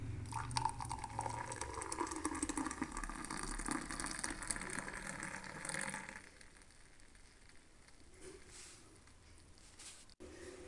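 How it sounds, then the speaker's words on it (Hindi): Milk poured into a coffee mug, a steady gushing liquid stream for several seconds that then thins to a quieter trickle, close and soft with no voices. "ऊपर से हम दूध डालेंगे।"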